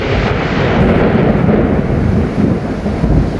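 Sudden violent windstorm in Izmir, a loud continuous roar of gusting wind with broadband rumble and buffeting that stays intense for the whole stretch, with no voices over it.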